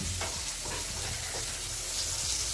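Food sizzling in a pan on a home kitchen stove, a steady close frying hiss with a faint low hum underneath and no talking.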